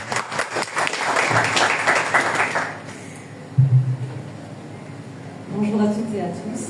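An audience at an economic development event on entrepreneurship breaks into a burst of dense clapping that fades after a few seconds, followed by talk from people nearby.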